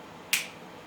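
A single crisp finger snap, sharp and close, standing alone against a quiet background and fading quickly.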